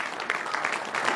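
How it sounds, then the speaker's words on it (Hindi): Applause from an audience at a seminar, a short burst of scattered clapping, moderately quiet and brief. "जोरदार तालियां, अभिनंदन, स्वागत।"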